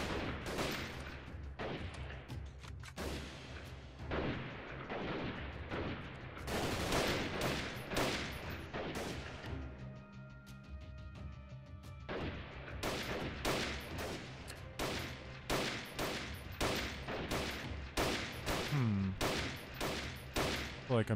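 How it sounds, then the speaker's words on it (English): Gunfire in the video game Freeman: Guerrilla Warfare, with repeated loud bursts of rifle and machine-gun shots, rapid volleys spread across the stretch and a brief lull in the middle. "I'm just shooting a hole around him."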